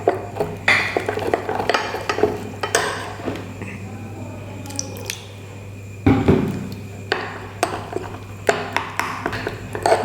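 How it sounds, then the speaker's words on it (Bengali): Flour and water being mixed in a bowl with a spoon for papad patties, giving repeated clinks and scrapes of utensil on the bowl over a steady low kitchen hum. "ওটার মধ্যে একটুখানি জল দিয়ে দিচ্ছি। তো আমি এখানে 2 চামচ জলও দিয়ে দিয়েছি আর ময়দাটাকে মিশিয়ে নিচ্ছি।"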